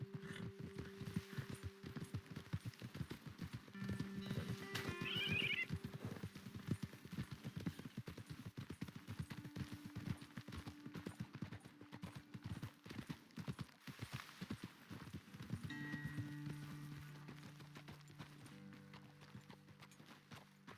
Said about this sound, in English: Okay, let's dismount here. Best leave the horses back a bit.